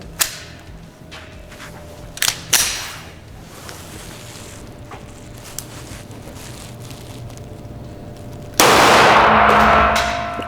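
Lebedev PLK pistol and Glock 17 shots crack in an indoor range, a few sharp reports with echo, then a loud sustained burst of noise near the end.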